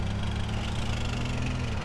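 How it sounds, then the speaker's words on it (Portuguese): A motorcycle engine idles in GTA San Andreas, a steady low mechanical rumble that stays even throughout, with no talking. "Olha a lenta dela"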